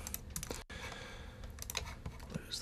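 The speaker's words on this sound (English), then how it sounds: "Lots of clicking." Mouse clicks at a computer running Ableton Live, a quick scatter of close, light taps over a faint hum, briefly broken by a short silence, with no talking.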